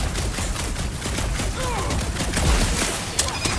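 Rapid gunfire and explosions crackle densely in the Guardians of the Galaxy video game, a loud, continuous battle din with sharp bursts on top, while voices talk over the fight.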